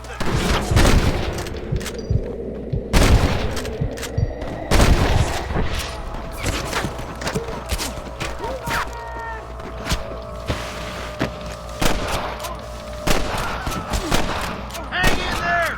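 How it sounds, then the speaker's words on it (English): Repeated gunfire from a Red Dead Redemption shootout, with sharp shots and volleys scattered throughout, some close and loud, alongside game voices and background rumble. "Damn fine shooting, boys."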